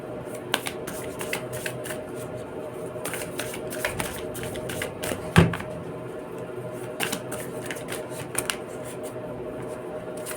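Tarot cards being shuffled by hand, quick riffling bursts and soft flicks repeating across the stretch, close and fairly quiet, with one sharper tap partway through.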